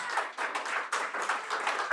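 A church congregation clapping together in a fast, steady rhythm, dense and close, filling the whole moment without any voices.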